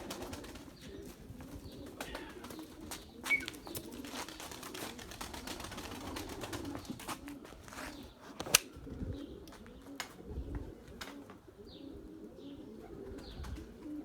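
Soft, low cooing from pigeons repeats throughout over a steady background murmur, with a few brief chirps and a sharp click partway through.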